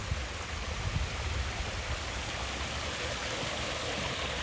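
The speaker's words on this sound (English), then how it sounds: "Check out this other little waterfall they got going here." A small waterfall in a park pours in a constant, full rushing splash, heard close and unbroken throughout with no voices.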